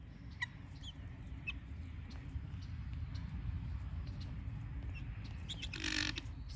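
Farm hens cluck and call in short bursts near and far while guinea fowl peck at pig feed, with a constant low rumble underneath and a louder scratchy burst near the end.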